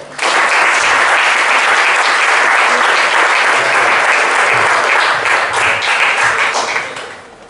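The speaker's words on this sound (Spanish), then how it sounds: "Un aplauso para Víctor." A room of listeners at a pub science talk on diabetes claps for the speaker being introduced, a loud, dense and even burst of applause that holds steady before fading out at the end.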